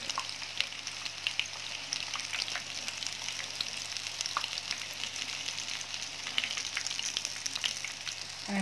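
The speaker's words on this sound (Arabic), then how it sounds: "غنكمل القلي ديال كاع لي كويس اللي عندي" Chicken pieces frying in hot oil for KFC-style fried chicken, a steady close crackling sizzle with dense popping that continues throughout without pause.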